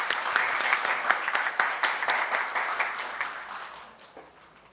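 An audience at a Korean panel discussion on youth media education applauds to welcome the moderator, with individual claps audible in a steady, moderately loud burst that gradually thins and fades out.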